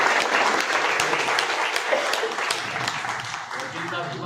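Audience applause at a kavi sammelan and mushaira poetry gathering, steady dense clapping from a crowd filling the hall for several seconds, slowly thinning toward the end, with faint voices mixed in.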